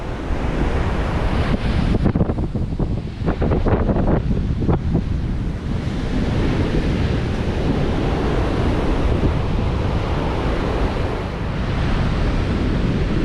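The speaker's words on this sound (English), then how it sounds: "Look at the waves smashing against the Pensacola fishing pier." Rough, storm-driven surf crashing against the Pensacola Beach fishing pier in Florida, a loud continuous roar of breaking waves heavily buffeted by gusty wind on the microphone.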